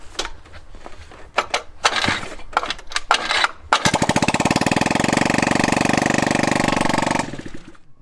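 An 80cc scooter engine with no exhaust fitted clatters and then fires up, running loud and steady with a fast buzzing putter for a few seconds before cutting off abruptly.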